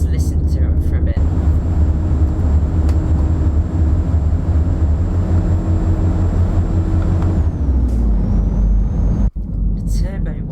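A turbocharged Renault Magnum truck engine in Euro Truck Simulator 2 drones loudly and steadily with a constant high whine, shifts pitch near the end, and cuts out briefly before resuming.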